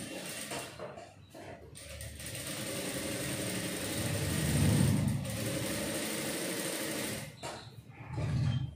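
A sewing machine runs steadily while stitching a long dummy basting stitch on a blouse, a close, continuous mechanical whir with rapid needle clatter that briefly pauses and restarts, rising louder toward the middle.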